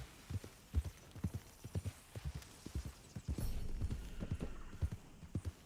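Horse hooves clip-clop in Red Dead Redemption 2, with steady rhythmic thuds of a horse moving along at a walking or trotting pace, clear and close under a faint ambient hum.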